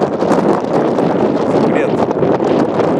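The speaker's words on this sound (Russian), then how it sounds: "Очень сильный ветер." Very strong wind buffeting the microphone on a shore, a loud continuous roaring rush with gusty fluctuations throughout.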